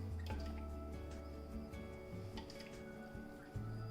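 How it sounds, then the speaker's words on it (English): Leftover juice is poured over pieces of southern fried chicken, making close, steady liquid dribbling and wet drips against a constant background hum, with no talking. "I'm going to put all that extra juice on there"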